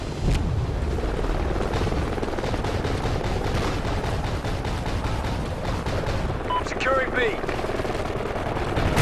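A helicopter in a first-person shooter video game drones steadily beneath dense, rapid gunfire and automatic weapon bursts, with the whole mix staying loud and busy throughout.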